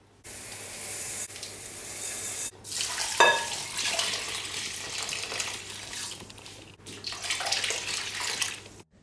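Basmati rice, India Gate Classic, roughly 1.5 kilos, is washed under running water for a biryani: a steady close splash and hiss of tap water with sloshing stirring, briefly interrupted by short gaps, no voices.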